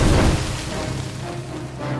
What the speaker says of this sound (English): I'm going to use this wand of fire